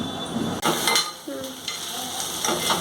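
Onions and okra (bhindi) frying in a pan, a steady close sizzle with scraping stirs and a few soft utensil knocks against the metal.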